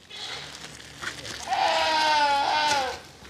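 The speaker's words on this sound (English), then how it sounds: "A goat?" A goat bleats in a long, loud wavering cry lasting over a second, preceded by faint background noise and a brief shorter sound, heard near and clear on a farm-like setting.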